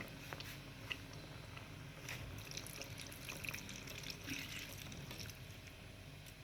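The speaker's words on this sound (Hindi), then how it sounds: "और इसमें थोड़ा सा पानी ऐड करूँगी।" Water trickles and splashes into a pot of spiced potato slices, a soft continuous pouring with faint clinks, fairly close and without talk.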